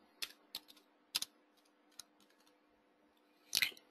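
A file name is typed on a computer keyboard during QGIS work: a handful of sparse, crisp keystrokes close by, each a short quiet click, with a small cluster near the end.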